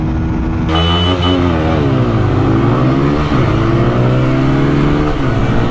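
Two motorcycles, a KTM Duke 160 and a 2025 TVS Apache RTR 160 4V, rev hard and accelerate in a drag race, engines climbing and shifting through gears, loud and close throughout.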